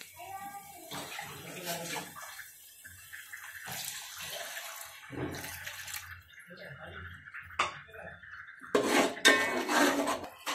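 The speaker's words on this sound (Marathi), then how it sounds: "त्यासाठी आपण आता थोडासा पाणी टाकूया याच्यात" Water is poured into pav bhaji masala cooking with kasuri methi in a pan, heard as bursts of splashing and pouring separated by short pauses, close and fairly loud.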